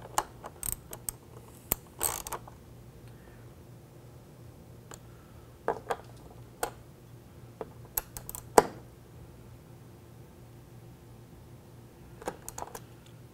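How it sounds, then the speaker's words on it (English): Valves on a GeoPrime flushing tank are rotated, giving sparse sharp mechanical clicks and ratcheting snaps against a faint steady hum, mostly isolated with quiet gaps between. "Now we're going to rotate these valves so the off position is here and here"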